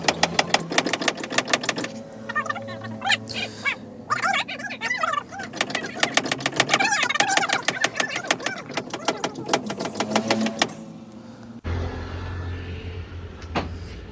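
A stalled bus engine, just topped up with oil, is cranked repeatedly, giving rapid mechanical chattering bursts that stop and restart, up close. The clip ends in a quieter low hum.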